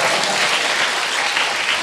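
Audience applause at a Buddhist dharma talk, a dense, steady wash of clapping that fills the whole moment at an even, fairly loud level with no voices over it.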